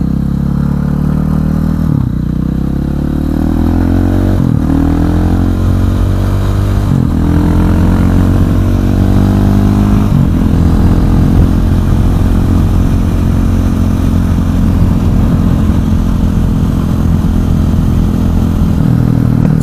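A KTM 500 EXC supermoto motorcycle rides continuously, its loud close single-cylinder engine droning with several rising gear pulls early on before settling into a steady, heavy roar.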